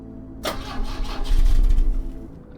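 A car engine in The Drifter cranks with a turn of the key, a sharp start followed by a rough, swelling rumble that fades away over a couple of seconds, close and alone.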